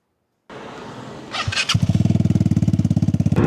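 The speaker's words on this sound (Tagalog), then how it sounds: "Malossi exhaust with the DB Killer." A Vespa Primavera 150 scooter fitted with a Malossi RX exhaust and DB killer starts up after a brief silence, then settles into a loud, close, rapidly pulsing idle with a throaty, even beat.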